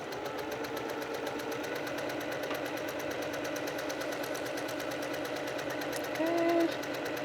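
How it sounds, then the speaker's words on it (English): A sewing machine runs steadily, stitching a quilt block with a fast, even mechanical whir, fairly quiet and continuous, with a brief slightly louder moment near the end. "I'm going to sew this again."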